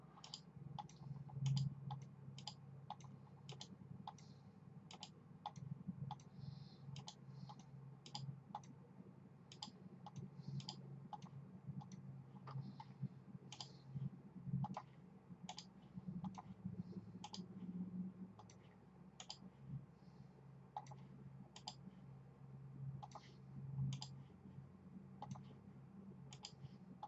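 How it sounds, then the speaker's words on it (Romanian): Computer mouse clicking repeatedly at a steady, fairly quick pace, with sharp close clicks over low background hum and no talking, as someone works through pages in Google Search Console. "Pot să fac scroll, click și pe rotița de scroll a mouse-ului"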